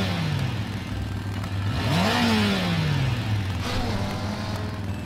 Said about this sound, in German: Es ist ein rotes Motorrad.